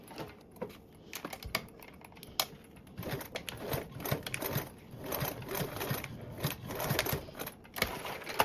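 A sewing machine runs a fast, steady stitch through a piece of fabric for a Pandora Charisma sewing pattern, with a close mechanical chatter and brief pauses. No one speaks.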